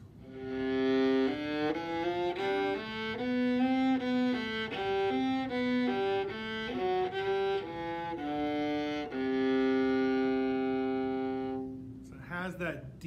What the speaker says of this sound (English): Lowest part of a viola kind of sounds like this.